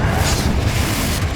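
Confringo blasting curse from Hogwarts Legacy going off as a loud, dense boom that rumbles on through the short moment without fading.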